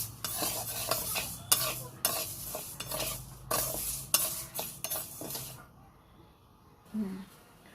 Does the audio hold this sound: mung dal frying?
yes